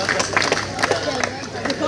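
Applause and cheering from a school audience as a top-ranked fourth-class student is called up at a results ceremony, a dense, steady patter of clapping mixed with crowd babble throughout.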